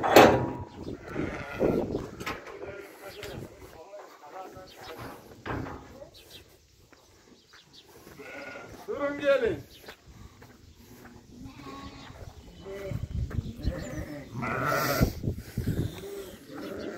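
Lambs over one month old, being loaded as fattened meat sheep, bleat repeatedly at varying distances amid shuffling hooves, knocks and background commotion, with people talking at times.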